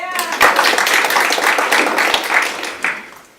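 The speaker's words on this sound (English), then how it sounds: "Round of applause." A small audience claps in a quick burst, loud at first and then tapering off over a few seconds, with some talk mixed in.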